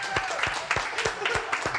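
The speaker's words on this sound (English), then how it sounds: "Big round of applause." An audience at a comedy roast of a streamer applauds steadily, a continuous wash of clapping with a few louder thumps standing out at regular intervals throughout.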